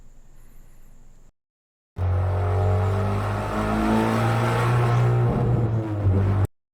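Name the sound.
car engine audio with endless tunnel reverb effect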